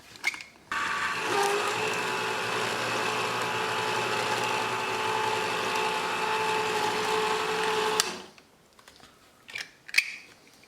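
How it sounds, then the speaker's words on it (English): A can of coconut milk is opened with a steady mechanical whirring grind lasting about seven seconds, close and fairly loud. It stops abruptly and a few small clicks and knocks follow in a quiet kitchen. "Coconut can, we're going to open it."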